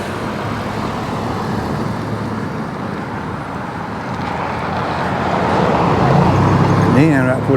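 A car pulls in along a town street in Cave Spring, Georgia, its steady engine and road rumble swelling nearer toward the end beneath a person's ongoing talk.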